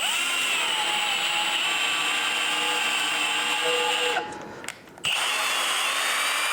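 A power drill on its lowest speed drives a spiral flute tap to chase threads on a factory dirt bike build, a steady close whine that cuts out briefly near the end and then resumes.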